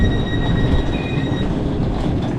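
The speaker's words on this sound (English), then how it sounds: "So that was our train." A train passes close by at a station with a loud, steady rumble of rolling wheels, with a faint squealing tone above it and no voices.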